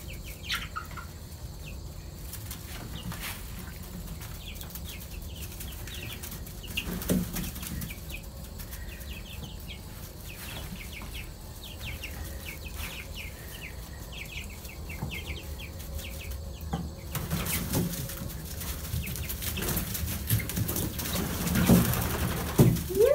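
Backyard chickens perched up high flap their wings in several bursts, with faint clucks and soft calls over a steady outdoor background, fairly close and getting louder toward the end.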